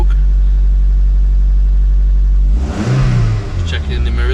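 A Toyota MR2 engine idles with a low steady rumble, then revs up with a rougher, blowing exhaust note from an exhaust leak, close by.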